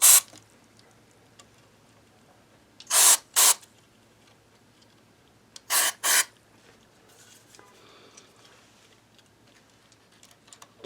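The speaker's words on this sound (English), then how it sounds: "I can spray these out." Electronic contact cleaner is sprayed onto the wiring of a 1976 Music Man StingRay bass in short, sharp hissing bursts, one at the start and then two quick pairs, with small clicks and handling noise in between.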